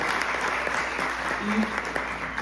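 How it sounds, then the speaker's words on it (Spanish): A church congregation claps in praise, a steady, moderately loud spread of applause with a voice faintly heard underneath. "qué tal si un aplauso al Señor por la vida de estas personas que sirven para Dios?"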